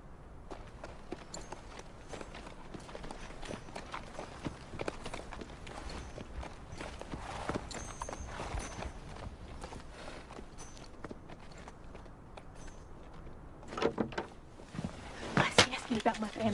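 Horse hooves clip-clopping on the ground in a western setting, steady hoofbeats under a faint background, growing louder and more distinct near the end as the horses come closer.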